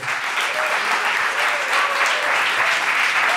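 Studio audience applauding at the opening of an Italian comedy talk show, a thick, continuous wash of clapping that holds steady and loud from start to finish.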